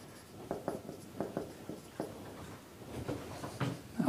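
Writing on a board during a lecture: a series of short scratchy strokes and taps, irregular and fairly close, coming in small bursts with brief pauses and no speech.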